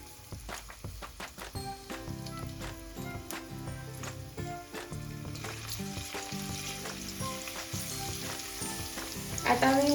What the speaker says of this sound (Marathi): आता मी मुद्दामून तेल तापण्याआधी थोडंसं टाकलंय लसूण, कारण व्हिडिओ मध्ये खूप मोठा आवाज येतो